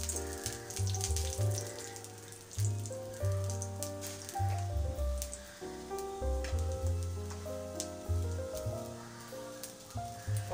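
Urad dal sizzles in hot oil for a tempering, giving a continuous, gentle crackling hiss that carries on throughout beneath background music.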